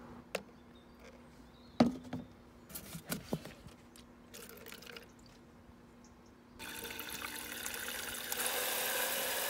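Water poured into a plastic bottle being made into a homemade wasp and hornet trap, opening with scattered knocks and drips before a steady close splashing trickle fills the last few seconds.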